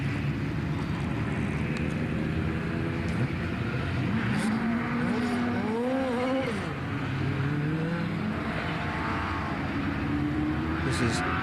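Racing cars at an 8 Clubs race at Silverstone roar past in a continuous loud stream, engine notes rising and falling as they accelerate and pass, with a commentator talking over the din.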